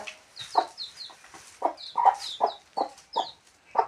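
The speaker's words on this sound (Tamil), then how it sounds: "தாய் கோழி சரியாக ஆக்ரோஷமாக இருக்குதுங்க" An aggressive mother hen clucking repeatedly in short, sharp bursts at a fairly regular rhythm, close by and alone, with higher chirps between some calls.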